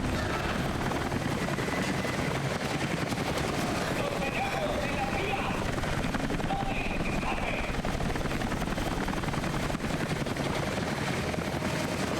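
Helicopter in the video game Rise of the Tomb Raider, a steady loud rotor roar that fills the whole stretch, with bursts of gunfire and game noise mixed in.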